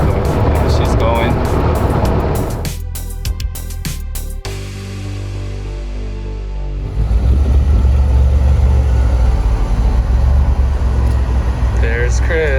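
DeLorean car cruising on the road, with a steady engine and road drone throughout and a louder, rougher rumble in the second half.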